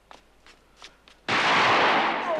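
A gunshot fired at two escaping convicts in a film bursts in suddenly after near-silence, a loud, harsh, broad blast that holds and roars on to the end, with no voices.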